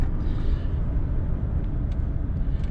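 A 2007 GMC Sierra 4x4 pickup truck drives along, its engine and road noise forming a steady, loud low rumble heard from inside the cab.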